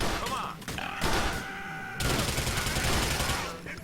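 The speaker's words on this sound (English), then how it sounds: "Here's the immediate use of the SMG I just got." An SMG fires in a video game in rapid, loud bursts with a short gap between them. A voice can be heard faintly underneath.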